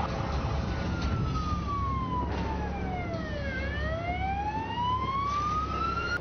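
A police car siren wails loud and steady, its tone sweeping down and back up in long, continuous glides without any talk over it.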